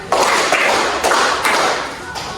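In a classroom at the start of a lesson, a group of pupils claps a counted pattern, four crisp claps spaced evenly and close by, each ringing briefly in the room.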